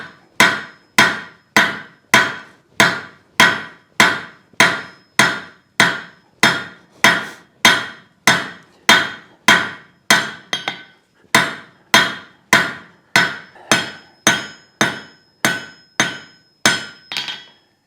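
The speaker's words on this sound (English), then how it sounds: "So now I'm going to go right here to the horn of the anvil and draw it out." A hammer strikes steel on an anvil horn while forging a logdog taper, producing loud, ringing blows at a steady, even pace, roughly two dozen in a row with a brief pause midway.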